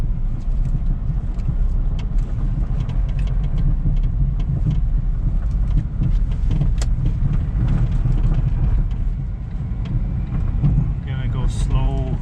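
A Smart Fortwo diesel with a newly fitted intake tube on a slow test drive: a loud, steady engine and road drone fills the cabin throughout, with a brief higher whine near the end.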